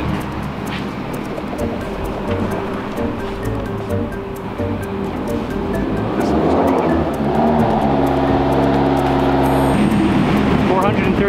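Nissan S13 with an SR20 engine on a dyno, revving hard, its loud tone climbing and holding high toward the end, with crackles and background chatter from people nearby.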